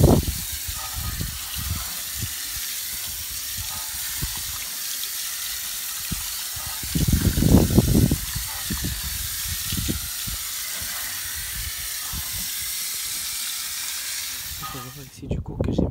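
Water streams steadily from a hose or spray rinsing soap off the wheels of an Audi TT, a continuous broadband hiss with some gurgling bursts partway through and a low voice talking underneath.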